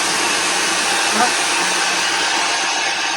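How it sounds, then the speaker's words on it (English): A Slopehill hair dryer blows steadily and loudly up close, a constant whooshing roar with no break. "this is a very cute hair dryer"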